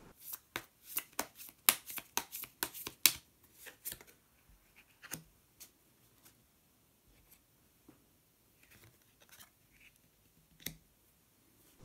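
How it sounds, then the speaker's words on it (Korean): Tarot cards are shuffled in quick, crisp riffles and flicks up close, then a sparse series of softer taps and slides follows as a single card is drawn and laid down. "그러면 히든 카드를 한 장 더 뽑아보도록 하겠습니다."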